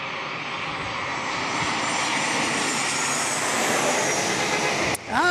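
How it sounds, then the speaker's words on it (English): An airliner with scimitar-style winglets passing at San Diego International Airport, a loud steady jet roar with a tonal honking drone that builds and then cuts off abruptly near the end. "I think we can narrow it down maybe to the scimitar style winglets as a contributing cause for the honking."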